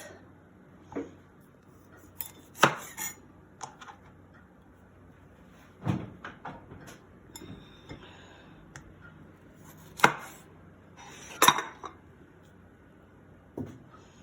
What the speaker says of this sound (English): Now we're gonna get our tomatoes ready. Now we cut off the end.